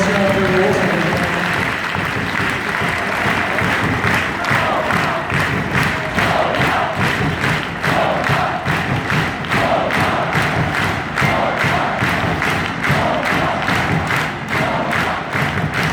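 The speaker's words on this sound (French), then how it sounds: "merci pour les applaudissements" Sustained applause and cheering from a crowd saluting departing ASM players, loud and steady with rapid rhythmic clapping throughout, some voices mixed in.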